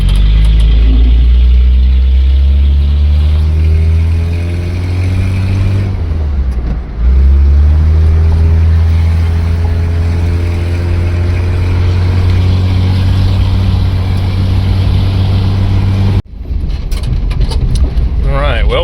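A 1950s classic car with a flathead engine drives along, its low, loud engine drone steady and close, with one brief dip as it shifts and a sharp cut near the end before the engine resumes.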